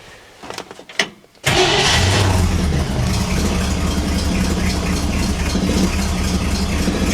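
A 283 small block V8 in a Chevrolet Nomad project car fires up after a few cranking sounds, then settles into a loud, steady, rumbling idle close by with slight revs.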